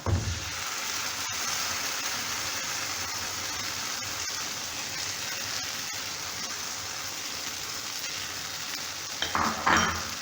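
Red capsicum and other chicken pizza topping ingredients fry in a pan on the stove. A steady, close sizzle is joined by faint stirring scrapes and a brief clatter near the end.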